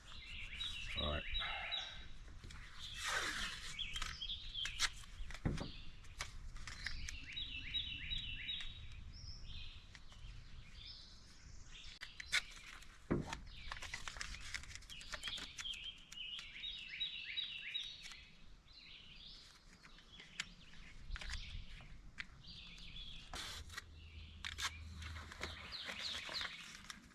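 Birds chirp and sing outdoors around an off-grid homestead cabin, with repeated bright calls scattered throughout, some near and some farther off, mixed with occasional knocks and rustling.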